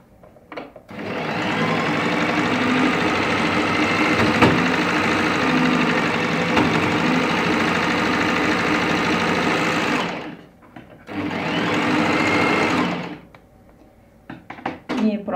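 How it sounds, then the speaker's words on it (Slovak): A Brother 3034D overlock serger stitches through two layers of denim, running in a loud, steady whir for about ten seconds, pausing briefly, then buzzing again for a shorter burst. "stroj si poradil aj hrubšou látkou, tu som mala niekoľko vrstiev tej džínsoviny"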